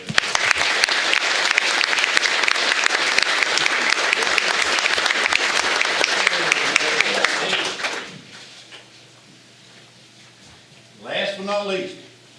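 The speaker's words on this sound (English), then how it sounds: "join me in a round of applause and congratulations" Vigorous audience applause at a Robertson County Board of Education meeting for a newly elected board member, sustained for about eight seconds before stopping abruptly; a voice speaks briefly afterward.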